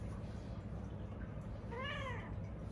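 A female cat in heat lets out one clear, wavering meow with rising and falling pitch, moderately close, over a constant low hum of urban night noise in Hong Kong.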